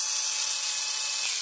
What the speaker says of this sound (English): This is an electric screwdriver made by Hypertough, which is a brand that Walmart carries